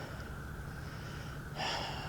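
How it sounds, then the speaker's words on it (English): Heavy breathing from a rider just back from a 3-mile electric bike ride on an Ecotric Seagull 500W 48V eBike; steady close breaths with a sharper, louder exhale near the end. "you can see I'm breathing"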